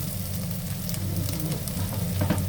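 Onions and tomatoes sautéing in a pan, a low continuous sizzle with faint stirring scrapes, close and steady without talk.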